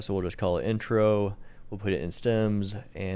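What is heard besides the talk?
No everyday noise stands out behind the speech.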